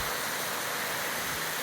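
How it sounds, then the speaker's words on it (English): Fairy Falls waterfall heard from a walking trail, a steady, even rush of falling water that fills the air as a continuous hiss with no voices. "You can still see parts of the waterfall through here now as you're walking."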